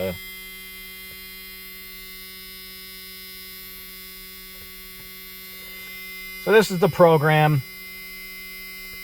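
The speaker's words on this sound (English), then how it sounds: "the key is in the on position, we're gonna get that buzzing noise" A steady electrical buzz hums continuously with a car ignition key in the on position, fitted with a Holley Sniper, with a brief burst of speech near the end.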